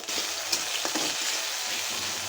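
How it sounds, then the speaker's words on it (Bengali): Onions and spices frying in hot oil for a chicken and potato curry, a steady close sizzle with a few brief scraping stir sounds, no talking. "পেঁয়াজটা দিয়ে মশলাটা কষিয়ে নেব।"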